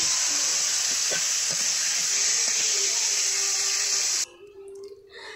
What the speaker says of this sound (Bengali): বাকি মাছটাও একইভাবে ভেজে নিই